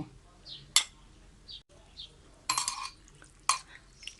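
Yen ta fo noodles are tossed with chili flakes, sugar, fish sauce, vinegar and fried garlic in a bowl, giving a few scattered, soft clinks and scrapes of a utensil against the dish, with a person talking quietly between them.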